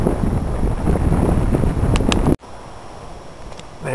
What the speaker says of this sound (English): It's cold and windy, and I have no gloves.